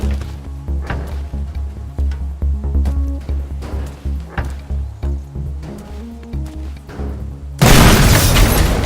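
A loud, broadband blast erupts near the end of a stretch of clattering, thudding game sounds in the Teardown sandbox game, its roar sustained and filling the final second.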